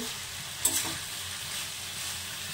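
Small puti fish being sautéed in a pan with potato, eggplant and beans, a steady close sizzle with a brief stirring scrape, no talk.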